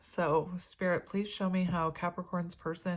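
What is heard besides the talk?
No distinct noise like a dog, phone or traffic.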